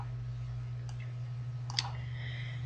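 Computer mouse clicks during design software work, two or three faint, sharp clicks over a steady electrical hum and background hiss.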